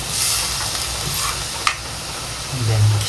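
Chicken and carrots stirred around a hot frying pan, with a steady sizzle and the scrape and clatter of stirring running throughout, close and fairly loud.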